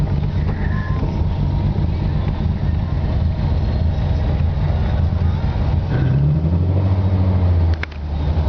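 A 1965 Volvo 1800S engine drones loudly as the car drives and pulls over, its tone shifting near the end before being shut off, ending in a brief dip.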